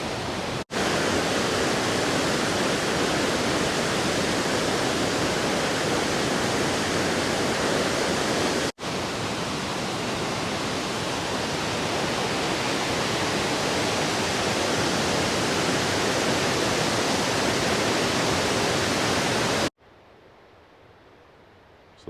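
Waterfall at the Falls of Clyde in Scotland, a loud, steady roar of rushing water heard close by from a viewing point, broken by brief cuts and ending quieter.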